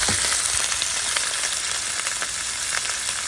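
Pork chop frying in a pan with onions, a loud, continuous sizzle with crackling spits, close and steady throughout with no talk.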